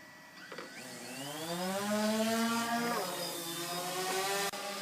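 A DJI Phantom 2 and a Blade 350QX quadcopter hover side by side in calm air, making a close, steady electric buzz with layered motor whines that shift slightly in pitch as the rotors hold position. No one speaks.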